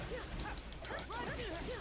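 A dog barks and yips in Naruto x Boruto Ultimate Ninja Storm Connections, a quick series of short, high, whining yelps over a loud, busy game soundtrack.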